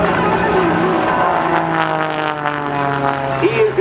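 Michael Wiskus flies the Lucas Oil Pitts aerobatic biplane at a Peoria, Illinois airshow, its propeller engine droning loud and steady as it pulls up into a loop, the pitch shifting with the maneuver while an announcer talks over it.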